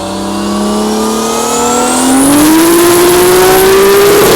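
A 1500 hp Dart with a 3.2-liter stroker 2JZ on 40 psi of boost screams on a dyno, its loud engine note climbing steadily in pitch as it revs, with no voices.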